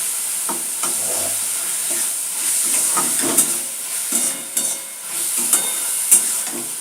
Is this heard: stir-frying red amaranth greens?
yes